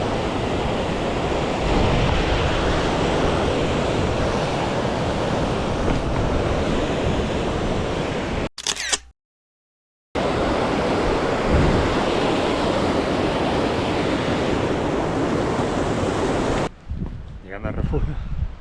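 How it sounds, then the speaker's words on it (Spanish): Water rushing down the Libón mountain stream in the Aragonese Pyrenees, feeding toward the Respomuso reservoir, a loud steady broadband roar with wind buffeting the microphone and a brief cut near the middle. "Toda el agüita cayendo."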